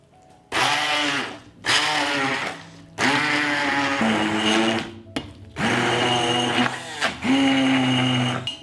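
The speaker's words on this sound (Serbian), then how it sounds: "i meso ću usitniti štapnim mikserom" An immersion stick blender pulses through cooked meat in broth with gelatin, giving five loud whirring bursts separated by short silent pauses, the motor pitch shifting as the mixture thickens.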